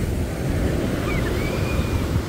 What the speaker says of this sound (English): Here's the ocean at 8 o'clock at night.